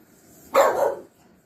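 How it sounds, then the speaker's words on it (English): A dog lets out a single loud, close bark that trails off briefly, with quiet before and after it. "Dog alert."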